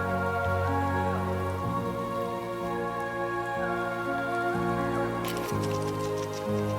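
Steady timefall rain in the Death Stranding 2 video game patters without a break, mixed under sustained, slowly shifting musical tones, with no talk.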